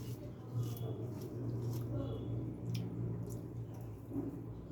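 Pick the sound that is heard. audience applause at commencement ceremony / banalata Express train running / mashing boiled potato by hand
mashing boiled potato by hand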